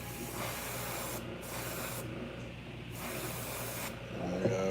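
Orange paint sprayed onto big fishing baits, the color spraying unevenly: a close, steady hiss of spray with short pauses between passes.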